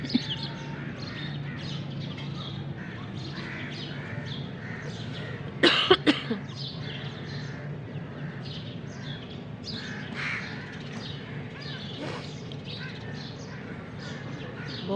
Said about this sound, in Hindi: ठंडा ठंडा मौसम और चिड़ियों ने शोर डाला हुआ है, चीं चीं चीं चीं कर रही है